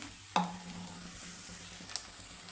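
Ginger garlic paste frying in a pan for an egg fry, a faint steady sizzle with a sharp clink of a utensil early on and a lighter tap later, no talking.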